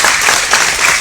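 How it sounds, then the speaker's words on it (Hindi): A crowd at a poetry gathering and award ceremony marking Guru Gobind Singh's birth anniversary breaks into loud, dense applause that fills the whole moment with no pause. "और पूरी ऑडियंस से मैं अनुरोध करता हूँ कि एक बार जोरदार तालियां"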